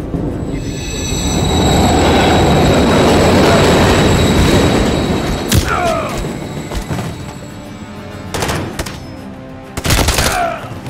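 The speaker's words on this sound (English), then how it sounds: "Another train coming." A train rumbles past close by in the video game Call of Duty: Modern Warfare III, its wheels squealing and screeching in bursts as it goes. A few sharp cracks ring out near the end, with no speech.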